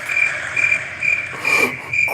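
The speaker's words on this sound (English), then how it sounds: "Crickets." Crickets chirp in a steady, evenly spaced pulse, loud and close, with no voices over them.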